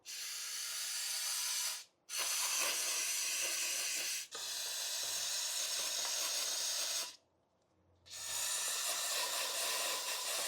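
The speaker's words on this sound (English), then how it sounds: "So let's blast that thing with some MAF cleaner." MAF cleaner sprays onto a car's mass airflow sensor in three long, steady hissing blasts with brief gaps between them, close and fairly loud.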